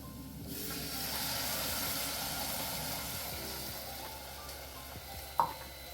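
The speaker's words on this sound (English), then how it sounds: "To that, I'm going to add my 2 cups of fish stock" Fish stock goes into a hot pan with browned ingredients and sets off a broad, steady sizzling hiss that slowly settles, closing with a brief clink near the end, with no talking.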